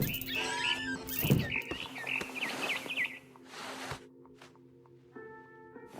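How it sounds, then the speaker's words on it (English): A barn swallow in the video game What Remains of Edith Finch gives quick, bright chirps and twittering calls close by, followed by quieter scattered chirps over a faint background hum. "Then I heard chirping outside my window. It was a barn swallow going back to her nest."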